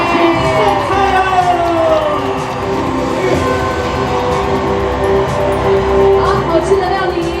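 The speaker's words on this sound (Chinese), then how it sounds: "掌声欢迎！" Guests at a belated Mid-Autumn dinner banquet cheer and clap as the meal is served, a loud continuous crowd roar layered over music.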